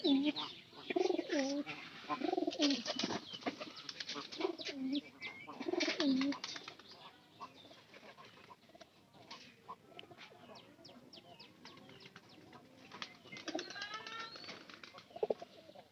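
Pigeons coo repeatedly at close range. Other birds call alongside them, and a voice talks intermittently.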